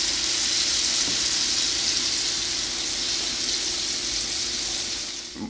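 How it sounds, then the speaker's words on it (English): Turkey pieces fry in hot grease outdoors with a steady, hissing sizzle close by that holds for several seconds before easing slightly at the end. "dip it in, into your grease, and you let it cook"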